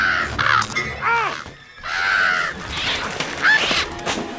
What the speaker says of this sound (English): a group of angry crows attack and start eating them